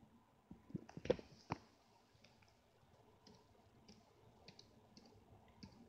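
Faint typing on a computer keyboard: a quick cluster of light key clicks near the start, then scattered soft taps spread through an otherwise quiet stretch.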